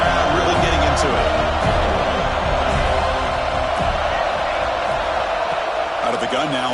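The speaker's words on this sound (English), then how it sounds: "Third down and the crowd really getting into it." Stadium crowd cheering steadily in a college football video game, a constant loud roar with swells, under commentary talk throughout.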